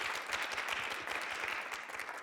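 A conference hall audience at a Paris political debate event bursts into dense, sustained applause, many hands clapping steadily and close throughout with no talk.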